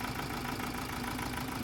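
A Ford Raptor 2.0 biturbo engine with a misfire fault idles roughly, giving a steady, dense rumble with an uneven, shaky undertone that stays constant and fairly loud.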